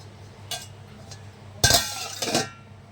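Metal pot lid set onto a cooking pot with a small clink, followed by a louder clattering clank of metal on metal as it settles, close by in a kitchen.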